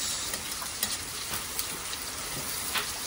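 Oil with garlic and onion frying in a pan for a Kapampangan shrimp dish, a steady close sizzle with faint crackles and occasional stirring clicks, no voices.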